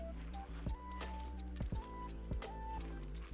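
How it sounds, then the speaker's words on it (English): A spatula folds diced apples into thick muffin batter, producing soft wet squelches and sticky squishes in an uneven rhythm, close and quiet. "I'm gonna take the diced apples and dump them into the batter. You're just gonna use your spatula to fold it in."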